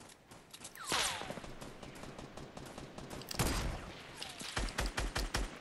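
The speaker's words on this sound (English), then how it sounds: "there's so many people shooting, I don't know where the fuck to look" Gunfire from many players rattles in the battle royale video game Fortnite, with a loud burst near the start and another mid-way, then quick repeated shots toward the end, all moderately faint.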